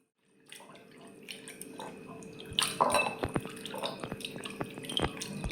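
Kajoli fish being rinsed with water after a flour scrub, with repeated drips, splashes and small clattering knocks close by, growing busier over a few seconds with no talk.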